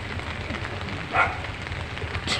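Heavy rain from Typhoon Carina falls over a flooded neighborhood, making a steady, dense hiss of drops on surfaces with a faint splash partway through. Nobody speaks.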